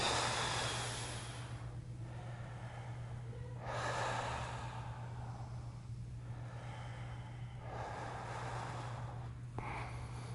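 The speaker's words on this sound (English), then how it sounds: "the rising, the sinking of the belly breath." Deep belly breaths during a yoga session, slow and close, with long airy inhales and exhales rising and falling in a steady rhythm across several cycles, no talking.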